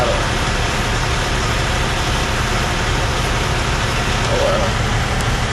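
A semi truck idles in a truck stop parking lot at night, a steady, unbroken engine drone with dense noisy rumble that holds level throughout.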